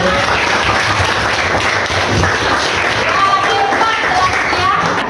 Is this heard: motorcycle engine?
no